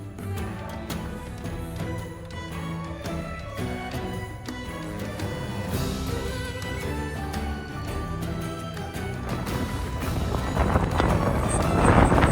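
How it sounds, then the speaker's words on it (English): Strong wind buffets the microphone in the Scottish Highlands, a loud, continuous roar with gusty low rumble that swells toward the end. No one speaks. "You can just see how crazy the wind was."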